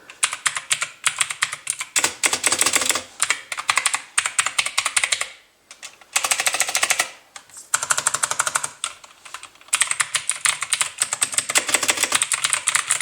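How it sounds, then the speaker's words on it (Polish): Rapid clicky keystrokes on a mechanical keyboard, typed in bursts with brief pauses between them, close and crisp with no voices. "Jest to właśnie klawiatura mechaniczna."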